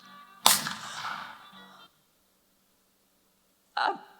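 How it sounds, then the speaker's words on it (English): A single sharp gunshot sound effect cracks out during a stage play, loud and close, with a decaying tail, then silence and a brief second burst of noise near the end. "a shot"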